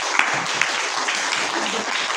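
A classroom audience claps together in a short burst of steady, moderately loud applause, with a few sharper individual claps standing out.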